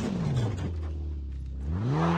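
An engine hums steadily in Call of Duty Blackout, dipping lower and then rising again as the car speeds back up, close and continuous with no talk.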